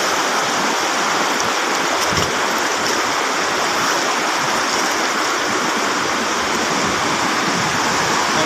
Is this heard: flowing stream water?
yes